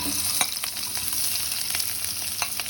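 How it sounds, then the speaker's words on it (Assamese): Onions, two large ones, hit hot mustard oil in a pan: a steady close sizzle with a few sharp stirring clicks, and no one speaks. "ইয়াত মই প্ৰথমতে তেল গৰম হৈ গৈছে, পিঁয়াজ দিছোঁ"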